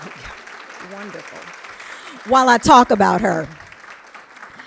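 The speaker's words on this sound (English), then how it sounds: "A round of applause would be amazing right now." Luncheon audience applauding as a guest is welcomed to the stage, a steady wash of clapping running under a voice that speaks over it and grows louder midway.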